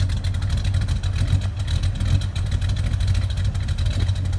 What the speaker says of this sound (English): This is cold, but it's still, you know, it's got a nice idle.